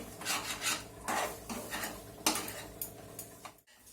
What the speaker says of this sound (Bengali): জল দিতে হবে আর কিন্তু নাড়তে হবে এটা সমানে